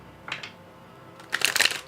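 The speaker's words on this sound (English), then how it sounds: "Let me shuffle ones." Tarot cards are shuffled in two quick bursts, a brief riffle followed by a louder, longer flurry of papery flicks close to the microphone.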